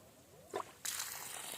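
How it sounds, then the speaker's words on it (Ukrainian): After a short click of the handle, water begins to flow from a tap with a sudden steady hiss and splash, close and quiet. "Опа, потекла вода"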